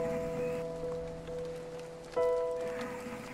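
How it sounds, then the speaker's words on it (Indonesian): Steady rain patters on a surface, a soft continuous wash under sustained musical tones that swell and fade. "menjauh di bawah derasnya hujan"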